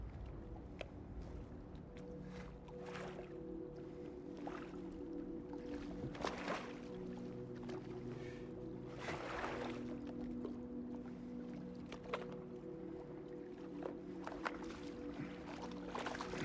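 A boat drifts on the water in the Silent Hill 2 Remake, a steady low hum and lapping wash holding at an even level throughout, with soft bursts of noise rising now and then.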